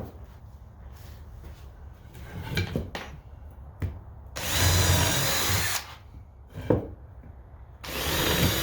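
A power drill pre-drilling holes into a wooden 2x4 screen frame, with two loud whirring bursts of bit biting into wood, one mid-clip and one at the end, separated by quieter handling noises and short bumps.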